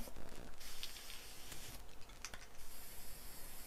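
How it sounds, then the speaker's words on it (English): Hissing bursts of an aerosol spray paint can coating a resin piece, several short sprays with brief pauses between them, close and fairly quiet. "I'm spraying the sides also."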